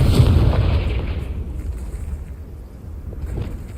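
A Confringo blasting spell explosion in Hogwarts Legacy, a heavy booming blast with a deep rumbling low end that decays over a few seconds into a lingering windy rumble.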